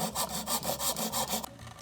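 Handsaw cutting through wood, a steady series of about seven rasping back-and-forth strokes, close and fairly loud, stopping just before the end.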